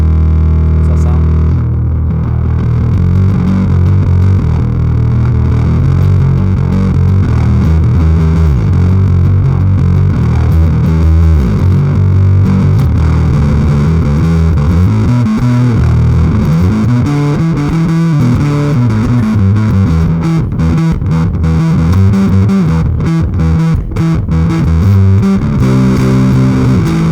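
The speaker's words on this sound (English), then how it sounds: "I'm going to drop in the Akai Custom Shop fuzz pedal on the warm setting" A Peavey PXD Tragic IV bass guitar played through an Akai Custom Shop fuzz pedal on its warm setting gives a loud, thick, heavily distorted bass riff that keeps going without a break and with no talking.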